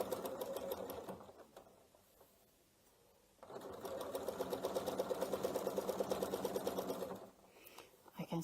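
A sewing machine stitching a quilt, its rapid motor chatter running in two close bursts separated by a pause, with speech heard alongside.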